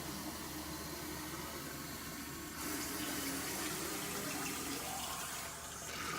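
Water rushes steadily from a water filter line as air is let out during a Big Blue filter change, a constant hiss and splash that grows slightly louder partway through and continues without pause.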